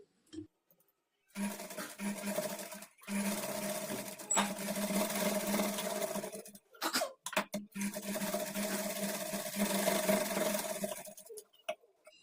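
A sewing machine runs a double stitch along a kurti shoulder seam, its fast rattling hum going in several long bursts broken by short pauses.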